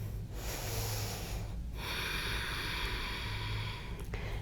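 Deep, steady breaths are drawn and released while holding a yoga lunge pose, a close, airy rush with a sharp break partway through and a low hum underneath.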